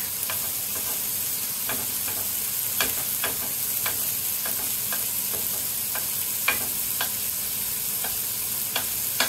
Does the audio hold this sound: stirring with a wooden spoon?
yes